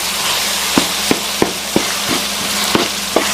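Ginger paste, tomatoes and onions frying in a pan, a steady close sizzle with a spatula knocking against the pan in several sharp, evenly spaced strokes.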